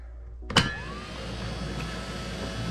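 A homemade lathe cutting a jet ski drive shaft starts with a sharp clack, then a steady, moderately loud motor whir with a faint scraping hum settles in and keeps spinning without pause.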